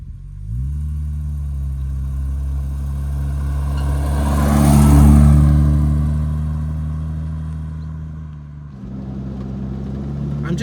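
A Series 1.5 Jaguar E-Type 2+2 with a 4.2-litre straight six idles while warming up, a steady low, even rumble that swells briefly midway and then settles back.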